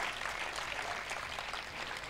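An audience claps steadily through a dense, even burst of applause at a Hindi lecture during a training camp in Surat, with no pause and no voices over it.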